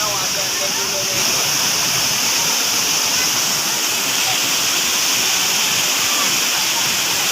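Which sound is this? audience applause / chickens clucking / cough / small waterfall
small waterfall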